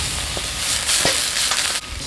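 Onion, ginger and garlic sizzling in a hot wok with a little white wine, a steady close frying hiss with brief stirring scrapes and crackles, no voices.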